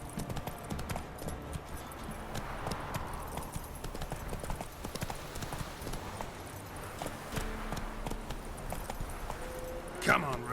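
A horse gallops in The Witcher 3: Wild Hunt on PS4, its rapid clip-clop hoofbeats running steadily throughout, with voices speaking over it and a brief louder sound near the end.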